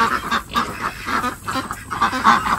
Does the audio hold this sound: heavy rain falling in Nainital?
no